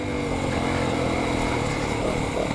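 A 2025 Yamaha YZ dirt bike cruises in third gear at low speed, its engine a steady, close buzzing drone with little change in pitch, no voices over it.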